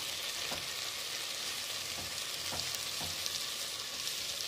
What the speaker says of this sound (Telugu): అల్లం వెల్లుల్లి పేస్ట్ కూడా పచ్చి వాసన వెళ్ళేంత వరకు వేడి చేసుకున్నామండి